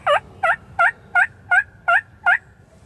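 Wild turkey tom gobbling in a hunting setting, seven evenly spaced, loud rattling gobbles repeated about every third of a second, close by and alone with no voices.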